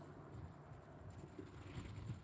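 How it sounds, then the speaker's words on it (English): A helicopter passing over Lake Pontchartrain at night, a low steady rumble with a faint rotor throb, moderately distant and continuous throughout without talk. "Got a helicopter flying over."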